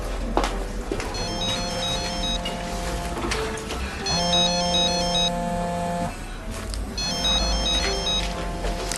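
A telephone rings after a redial, giving three repeated bursts of a bright electronic ringtone in an even pattern, clear and moderately loud over low background hum.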